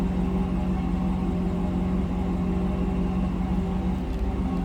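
The engine of a 2008 Cadillac Escalade AWD runs steadily at idle, a low, even hum heard close up and without interruption, with no talk over it.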